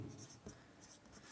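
Pen strokes scratch across paper as a geometry equation is written out for a Pythagoras theorem lesson, giving faint, short, irregular scratching bursts close to the microphone.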